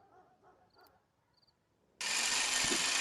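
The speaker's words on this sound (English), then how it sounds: "So we're gonna drill it." In the Rec Room video game, a drill starts up on a vault after quiet game sounds and faint beeps, then runs as a loud, steady mechanical whir.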